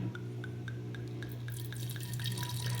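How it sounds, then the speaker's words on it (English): A Sodastream bottle is filled with water from a tap, with a steady low gush and a regular patter of drips nearby, and no one speaking. "You want to fill the Sodastream bottle up to the mark at the top, not overfill it or underfill it"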